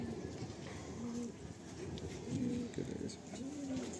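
A Giribaj pigeon coos in short repeated phrases, three or four soft hums close by, over low background noise in a pigeon cage.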